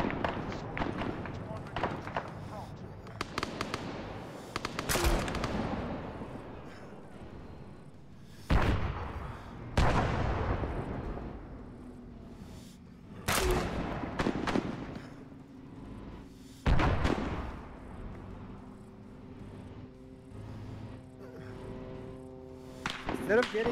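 Enemy machine gun fire in the video game Arma 3, sharp bursts and cracks at irregular intervals, some loud and close, others distant, over continuous game ambience with a voice talking at times.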